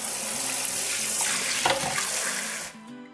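Water pours from a gold kitchen faucet with a detachable wand, a loud, steady rushing spray into the sink that shifts briefly partway through and then cuts off near the end, leaving a quiet tail.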